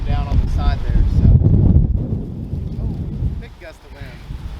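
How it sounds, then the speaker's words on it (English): A strong outdoor gust of wind buffets the microphone with loud, low rumbling roar that swells and then eases. Brief speech comes before and after it. "oh, big gust of wind."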